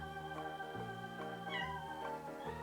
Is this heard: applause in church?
no